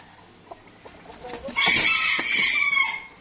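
Black silkie chickens in a breeder pen give a few soft clucks, then a louder, drawn-out fowl call rings out close by for a second or so.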